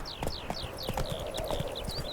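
Horse hooves clip-clop at a steady trotting rhythm in The Witcher 3, close and clear, with a faint high whistling tone above and no talking.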